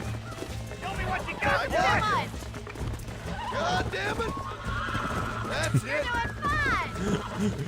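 A wild horse in Red Dead Redemption whinnies repeatedly with high, wavering neighs over galloping hoofbeats, loud and close, while someone talks over the action.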